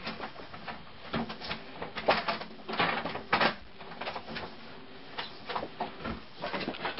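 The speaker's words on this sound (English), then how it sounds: "I don't know why my printer is making these sounds all of a sudden." A printer grinds and clatters with irregular mechanical bursts of sliding and clicking, fairly close and uneven in rhythm, heard alone without speech.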